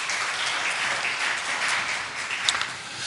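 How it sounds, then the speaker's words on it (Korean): A church congregation at a Sunday service applauds the Gloria choir. Steady, moderately loud clapping from many hands runs throughout, with a few sharper claps near the end. "우리 글로리아 찬양대에게 큰 격려의 박수 부탁드립니다."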